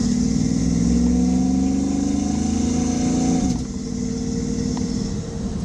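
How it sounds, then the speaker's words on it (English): Inside a muscle car with an automatic transmission, a steady, moderately loud engine drone fills the cabin while driving, its pitch easing downward midway, as if through a gear change. "Nice sound inside though. It's not a loud rig."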